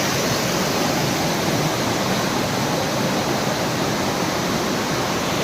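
The Jatashankar Mahadev waterfall on Girnar, swollen and muddy with heavy rain, roars in a dense, unbroken rush of falling water, loud and close throughout.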